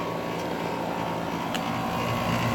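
A 2013 Rheem Value 3-ton air conditioner with a Copeland scroll compressor running in cool mode, giving a loud, steady, close-up hum and whir with a broad rushing fan noise and no break.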